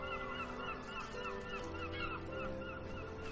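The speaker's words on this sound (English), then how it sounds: "Look at that seagull." Seagulls call in the video game RIME, repeated short squawking cries over a steady ambient backdrop of game music and sea atmosphere.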